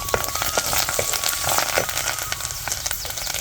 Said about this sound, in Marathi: आता हे मिरची लसूण सगळं घातलेलं वाटण तळून घेते